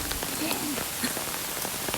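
Rain patters steadily on a wooded hiking trail in Shing Mun Country Park, Hong Kong, a soft dense hiss of drops with a few closer taps, quiet and continuous.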